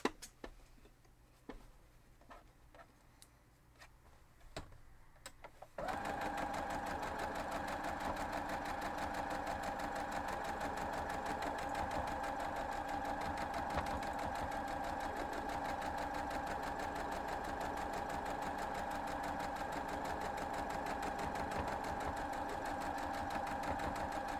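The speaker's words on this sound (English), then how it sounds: "All right, I'm gonna go sew this." After a few seconds of quiet handling noises, a sewing machine stitching a Santa's belt quilt block starts up and runs as a fast, steady mechanical whir with a clear rhythmic tick, close and continuous, with no talking.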